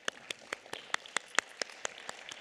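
Sparse clapping of a few hands at a community awards ceremony for Hispanic Heritage Month honorees, about a dozen distinct claps in an irregular rhythm, fairly quiet and close.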